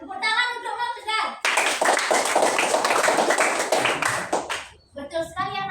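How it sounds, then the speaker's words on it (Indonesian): Children clap for a classmate in a classroom, a dense burst of many hands lasting about three seconds, with an adult teacher speaking before and after. "Tepuk tangan untuk Mang Tegar."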